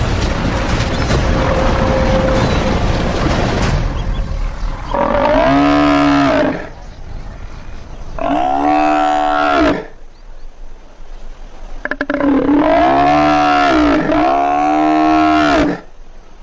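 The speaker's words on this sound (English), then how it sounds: "The injured cow's calls attract attention." An injured buffalo cow bellows in long, loud, drawn-out moans, several calls in a row with short pauses between, close and raw over a rumbling outdoor background.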